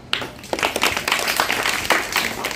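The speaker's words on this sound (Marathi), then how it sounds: "पुन्हा आपण सर्वजण सर्व गुरुसाठी टाळ्या वाजवूया।" Applause at a Teachers' Day school event: a crowd clapping steadily, close and fairly loud, with dense overlapping claps throughout.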